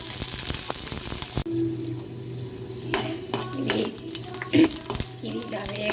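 Green chillies fry in a little oil in a pan, giving a soft steady sizzle with a few clinks of utensils against the cookware.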